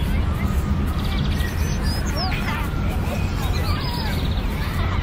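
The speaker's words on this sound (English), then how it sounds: "Maybe I'll add a more isolated bird sound effect" Several short bird chirps and calls rise over a dense, steady ambient bed with a murmur of distant voices.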